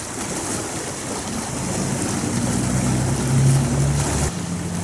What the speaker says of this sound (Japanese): 観光船。